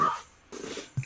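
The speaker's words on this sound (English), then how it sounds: "It's a dog." Dog barking at a house, captured from a drone fly-in: a short bark at the start, a quiet gap, then a burst of noisier yelps and a final sharp bark.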